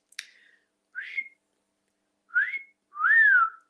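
Person whistling indoors, a quick snap-like click followed by three short rising whistled notes with gaps between, the last one longest and loudest, alone and close.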